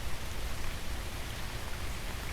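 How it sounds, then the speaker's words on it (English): Rain falls steadily over a garden, a soft, even hiss of drops on leaves and ground that stays faint and unbroken throughout, with no voices. "But isn't it fun to take a walk in the rain?"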